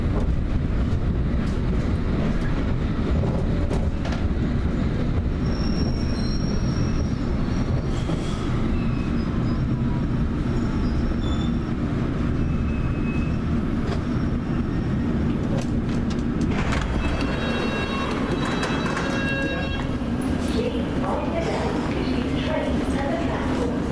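A train runs on the line approaching Liverpool Street station in London, a loud steady rumble and rattle of wheels throughout, with clicks and squeals toward the end.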